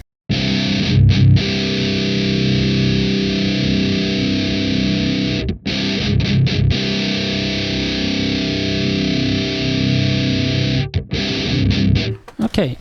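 A heavily distorted death metal guitar through the This Heavy Earth Flesh Rot amp sim plays loud, sustained chugging riffs with a few brief pauses, one near the middle, and ends with quick muted bursts.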